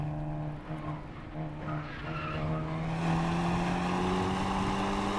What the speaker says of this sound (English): it just tire squeals everywhere because of the track surface